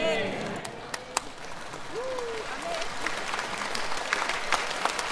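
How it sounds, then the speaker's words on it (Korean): A church audience claps after a worship song and dance: steady, moderately loud applause that continues under a speaking voice. "제가 율동을 잘했다고 박수치는 거죠"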